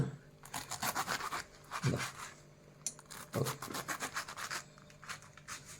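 A knife cutting pineapple into small pieces for Goan pineapple wine, with repeated rasping strokes and scrapes in quick rhythmic bursts, close up and without speech.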